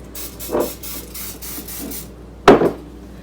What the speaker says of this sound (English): I just have some cooking spray, and I'm going to spray the cups